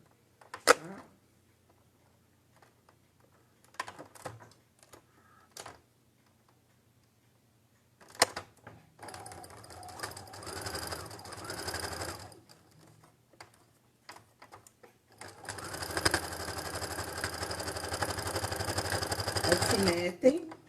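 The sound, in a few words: sewing machine stitching a quilt patchwork straight seam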